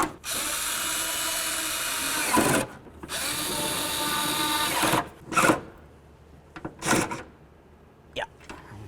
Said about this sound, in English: Let's start mounting up these mounting nuts here.